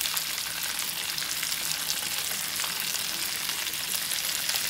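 Razor clams frying and being stirred in a pan with dried parsley, a steady close crackling sizzle that holds at an even level throughout with no voices.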